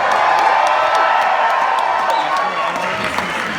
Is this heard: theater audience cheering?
yes